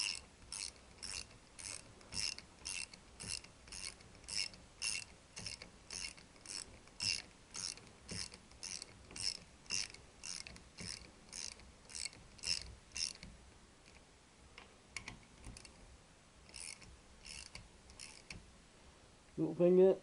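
A ratchet wrench tightens a bolt on a Triumph T120 engine during a rebuild, clicking in a quick steady series of close, crisp ratchet strokes that pause and then resume in shorter bursts.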